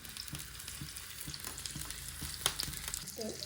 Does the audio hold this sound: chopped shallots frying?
yes